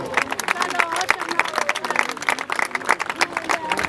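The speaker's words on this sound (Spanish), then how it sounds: "un fuerte aplauso" Spectators at a 2013 Mundaka rowing regatta applaud a passing trainera crew, giving dense, lively clapping mixed with crowd babble and a voice speaking over it.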